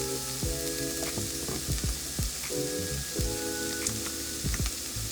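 Pepper steak with garlic stir-fried in an oiled pan, a steady loud sizzle punctuated by repeated scraping and clanking strokes of a utensil tossing the food.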